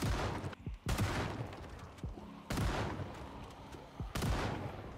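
Gunfire in the Project Zomboid zombie survival game, loud, sharp shots fired at irregular intervals, with lingering rumbling between the blasts.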